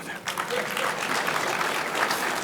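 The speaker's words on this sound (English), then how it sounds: "Please give them another round of applause." An audience at the 2025 state of the city presentation at the Beau Rivage claps for introduced ward council members. The applause is steady and moderately loud, and voices run underneath it.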